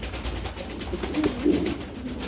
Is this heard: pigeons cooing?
yes